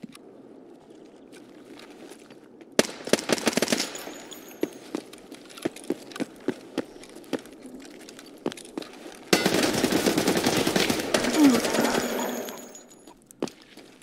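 Bursts of rapid automatic Uzi gunfire in Escape from Tarkov, a short volley early on and a longer sustained burst later, with scattered single shots between.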